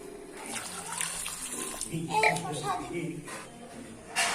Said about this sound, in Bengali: এক ঝুড়ি আম ধুতে নিয়ে চলে এলাম